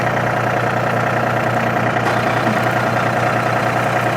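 A John Deere 5940 tractor runs steadily at idle beside a boom sprayer being calibrated, a constant low engine drone with a faint mechanical hum and no talk over it.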